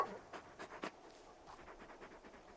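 Torgal, the large wolf-dog companion in Final Fantasy XVI, pants in quick breathy bursts, close and fairly soft, with a short pause partway through.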